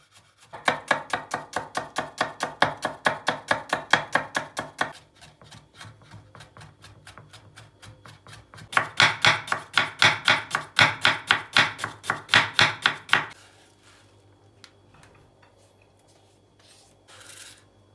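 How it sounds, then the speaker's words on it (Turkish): A knife finely chopping onion, pepper and garlic on a board for a minced-meat filling, in quick rhythmic bursts of close, crisp taps separated by a softer pause, with no talking. "sarımsağı ise daha ufak doğrayalım"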